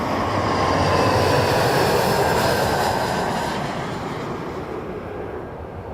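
An Embraer jet arriving from Newark passes at Toronto Pearson airport, a loud, broad engine roar that holds steady and then slowly fades as the aircraft moves away.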